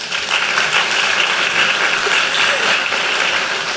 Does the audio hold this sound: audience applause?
yes